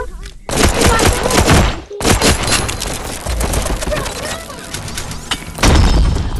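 Gunfire in the video game Animal Company plays as loud, dense bursts of shots and impacts that run almost continuously for several seconds, with a brief break near the start.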